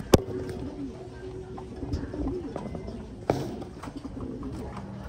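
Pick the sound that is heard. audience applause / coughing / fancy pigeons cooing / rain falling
fancy pigeons cooing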